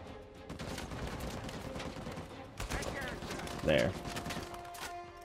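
Rapid bursts of gunfire in the action game Uncharted 4 rattle through a dense mix of in-game effects, with someone talking briefly over the shots.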